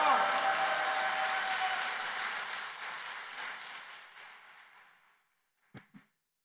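A church congregation claps and cheers loudly to welcome a preacher to the stage, the dense applause slowly thinning and fading out, followed by a couple of short sharp knocks after a pause.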